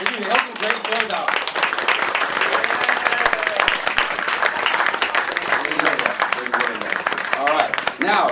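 Open-mic comedy show crowd applause, sustained clapping from a room of people that runs the whole way through, with voices and cheers rising over it.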